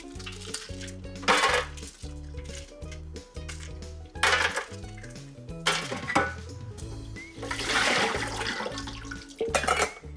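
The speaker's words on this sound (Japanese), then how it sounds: "サラダスピナーを使って完全に水切りをしていく。" Chilled broccoli spun dry in a plastic salad spinner, a loud rhythmic rattling and clattering with water sloshing, repeated pulses of whirring and knocking heard close up with no talking.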